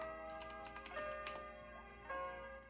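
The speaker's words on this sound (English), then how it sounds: "do not get a clicky switch keyboard as your only keyboard" Rapid clicky keystrokes on a Razer BlackWidow mechanical keyboard with clicky switches tap out a quick, uneven rhythm up close, with a faint steady hum underneath and no voices.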